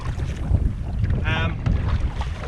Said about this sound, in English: the wind starts to lift, the weather starts to get a little stronger